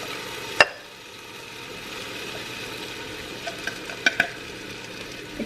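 A spoon stirs enchilada sauce mixed with canned diced tomatoes with green chilies and corn in a pot, a soft steady scraping under faint sizzling, with a few sharp clinks against the pot rim.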